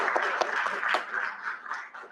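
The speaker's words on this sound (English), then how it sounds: "They also deserve a round of applause." Audience applause for candidates at a candidate forum, a moderate patter of clapping hands in a room, fairly quiet and brief with a few sharper individual claps.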